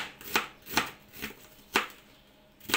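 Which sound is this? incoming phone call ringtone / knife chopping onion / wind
knife chopping onion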